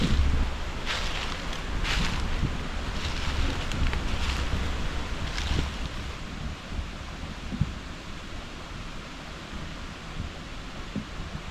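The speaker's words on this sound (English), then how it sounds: "Too windy" Wind gusts through the woods on a hunting day, a broad steady rush with buffeting on the microphone that is strongest early on and eases slightly later.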